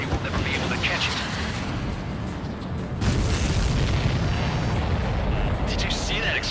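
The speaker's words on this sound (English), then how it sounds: "Did you see that explosion?" Explosion of an enemy supply ship during an air combat mission in Ace Combat 7: Skies Unknown, a sustained deep rumbling boom that swells louder halfway through, mixed with constant jet and combat noise under a radio voice.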